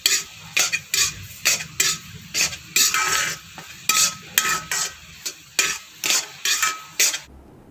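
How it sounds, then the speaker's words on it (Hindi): Banana halwa is stirred briskly in a pan over a low flame. A spoon scrapes in a steady rhythm, about twice a second, over a soft sizzle. "जब आप इन सभी चीज़ों को तेज़ी से चलाते रहेंगे धीमी गैस पे"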